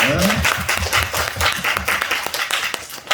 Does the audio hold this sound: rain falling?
no